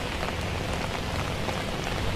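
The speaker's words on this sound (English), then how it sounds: "Keith and Ann, the pouring rain isn't stopping people from stopping by the Middletown Green tonight." Heavy rain pours down on the town green during an outdoor evening vigil in Middletown, a dense, steady hiss of drops hitting surfaces with no pauses and no voices.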